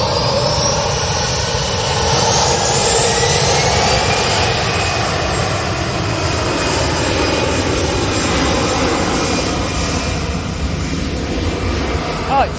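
An EasyJet airliner with silver winglets passes at Manchester Airport, its jet engines giving a loud, sustained roar with a whining tone that slowly shifts in pitch as it goes by.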